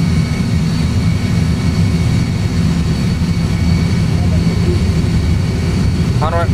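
Airliner jet engines at takeoff thrust, a steady loud low roar heard from inside the cockpit, unchanging throughout, with a faint tone near the end.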